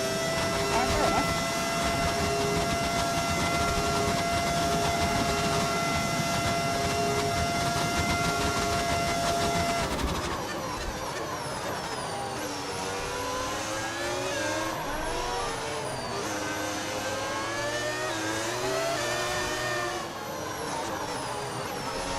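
An F1 race car engine in the video game F1 25 drones loudly and steadily, then shifts through changing revs and gears with sweeping pitch after the midpoint, continuous throughout with no voices.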